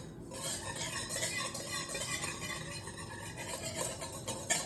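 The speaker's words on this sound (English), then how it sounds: "Then we are going to whisk it together." Rapid, rhythmic clinking of a whisk against a bowl as an egg mixture is beaten, close and steady with no talking.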